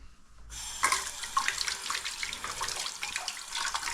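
Running tap water starts and splashes steadily into a sink while a fork is rinsed under it, close and continuous with small clinks.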